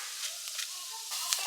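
Onion with slit green chili, red chili powder and biryani masala frying in a pan, a soft steady sizzle with faint stirring scrapes, quiet and continuous.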